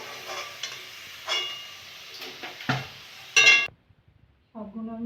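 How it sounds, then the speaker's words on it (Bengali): Onion and garlic fry in a pan, with intermittent sizzling and scraping stirs in short bursts, then a moment of near silence before a brief tonal clatter at the end. "পেঁয়াজ রসুনটা ভাজা হয়ে গেছে"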